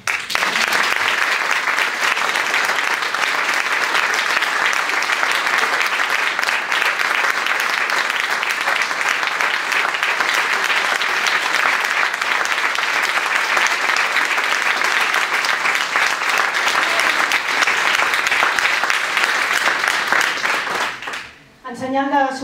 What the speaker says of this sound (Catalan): m'agradaria demanar un molt fort aplaudiment